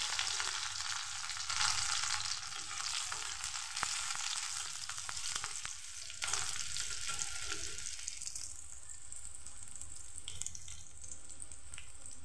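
Dried red chilli, green chillies and crushed garlic frying in a pan for spinach, a loud steady close sizzle with crackling that continues throughout, easing slightly toward the end, with no talking.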